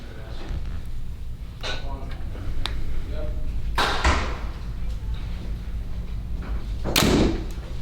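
Several sharp thumps of an 80 lb PSE EVL compound bow shooting arrows land a few seconds apart, each a quick snap with a short rattle, over faint background noise.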